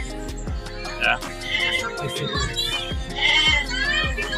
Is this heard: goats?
yes